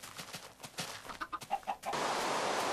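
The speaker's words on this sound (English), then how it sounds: "Look at the chickens follow me in." Several short chicken clucks in quick succession in a Minecraft-style crafting video game, then a steady hiss of in-game rain takes over.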